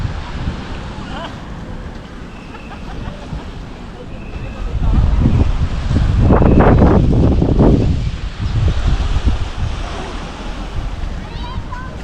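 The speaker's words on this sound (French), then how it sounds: "c'est une petite plage tranquille" Surf washing onto a small, quiet beach in Martinique, a steady wash with wind buffeting the microphone that swells into a louder surge midway before easing back.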